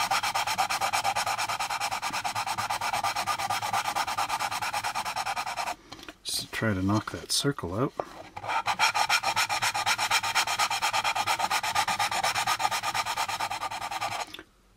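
Rough sandpaper rasps back and forth across a plastic part of an AMT U.S.S. Enterprise model kit, a steady close scratching that pauses briefly midway while someone speaks.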